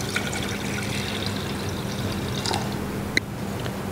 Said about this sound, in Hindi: और सबसे पहले हम डालेंगे इसमें पानी,